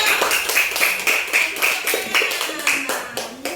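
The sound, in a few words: children applauding group 1 in class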